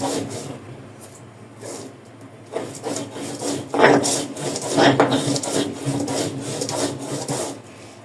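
Chili being ground by hand on a grinding stone, rhythmic rough scraping and rubbing strokes repeating close up at a moderate level, without speech.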